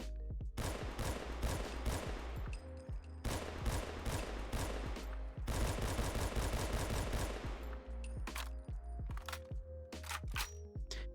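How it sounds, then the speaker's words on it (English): M14 rifle in a Fallout 4 mod firing in rapid bursts, loud dense cracks in three long strings, then scattered single shots and metallic reloading clicks, no talking. "Go ahead and let the firing and reloading play for you now"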